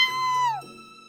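A single close, loud kitten meow in a courtyard, a rising then falling cry lasting about half a second, trailing into quiet background.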